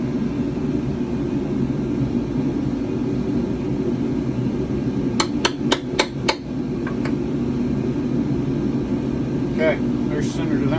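A small hammer taps an aluminum pen blank five times in quick succession, each tap crisp and close, over a steady motor hum, followed by a few fainter ticks.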